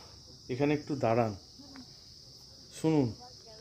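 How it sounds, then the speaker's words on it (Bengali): Crickets chirp in a forested stretch of the Kumaon hills on the way to Kausani, a steady high, continuous trill heard throughout while voices speak briefly over it. "ঝিঝি পোকার ডাক।"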